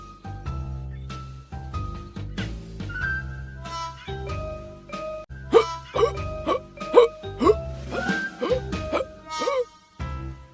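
An animated cartoon Mario character hiccups repeatedly, sharp vocal yelps popping out in an irregular series over a bouncy musical score.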